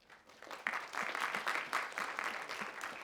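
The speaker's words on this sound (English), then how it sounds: "Round of applause." Audience applause in a university lecture hall on algorithms, a burst of clapping that builds after a quiet start and holds steady and fairly loud to the end.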